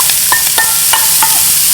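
Onions sautéing in oil in a frying pan, with a steady sizzling hiss and a few short clinks as a utensil stirs them, close up and with no voices.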